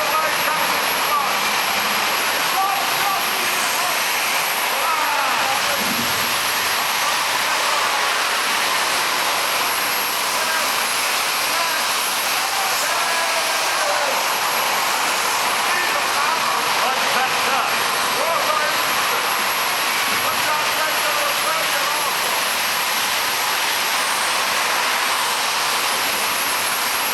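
A tiny car fitted with a jet engine roars steadily and loudly throughout a live motor show in an arena, a constant broadband rush with a presenter talking over it.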